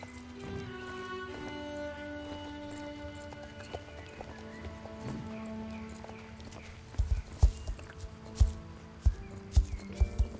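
A horse being ridden in Star Stable Online makes clip-clop hoofbeats, which start softly and become loud, evenly spaced strikes toward the end, over background game music.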